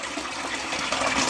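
A 12V solar submersible pump pushes water into a pond, giving a steady close rush and splash of flowing water with no voices.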